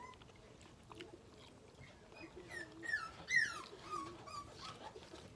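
Dogs whimper and whine softly for smoked, brined fish nearby, a few high thin cries rising and falling over quiet background.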